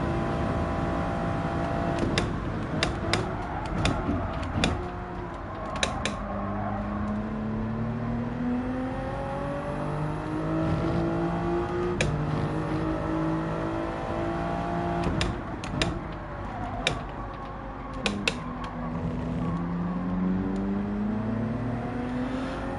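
Race car engine in Gran Turismo 7 at Daytona, a steady loud drone with rising and falling pitch sweeps as it revs out through gears, sharp clicks scattered over the sustained engine tone.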